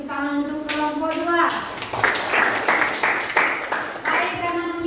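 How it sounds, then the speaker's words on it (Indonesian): A classroom of students breaks into lively group applause for a presenting team during a civics lesson. Dense clapping starts after a short stretch of a talking voice and continues steadily to the end. "kita beri tepuk tangan untuk kelompok 2."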